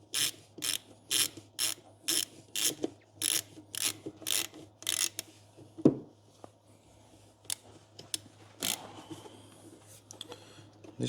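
A hand screwdriver turns screws into the stock air filter housing of a Dodge Challenger SRT 6.2 V8 supercharged HEMI, a steady run of rhythmic ratcheting rasps followed by scattered clicks and knocks, close, with no talking.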